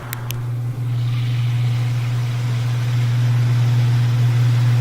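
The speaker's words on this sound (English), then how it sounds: "Let's try the spin cycle." An old laundry center washer, recently repaired for an off-center tub with new shocks, runs its spin cycle: a steady, loud low motor hum with a strong continuous drone that holds unbroken throughout, with a couple of brief clicks at the start.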